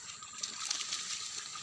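Masses of baung catfish churn the surface of a river, a faint continuous wash of splashing and rushing water with no distinct individual splashes.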